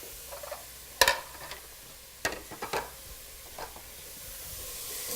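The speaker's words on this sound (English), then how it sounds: "Give it a good stir around." A pan of lean beef mince for pasta bolognese is stirred as it browns, with a few sharp scraping clacks of the utensil over a faint background sizzle.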